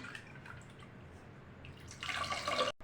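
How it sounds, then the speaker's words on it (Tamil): Squeezed, soaked tamarind water is poured into a pot of sambar: a faint trickle and drip, then a brief, brighter splashing pour near the end. "ஊற போட்டதான அந்த புளி கொஞ்சமாக பிசைஞ்சு ஊற்றிக்கலாம்."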